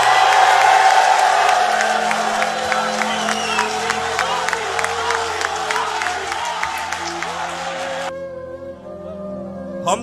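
A live poetry gathering greets poet Tehzeeb Hafi with a large crowd's sustained applause, cheers and whoops, loud and dense at first, then thinning before cutting off near the end.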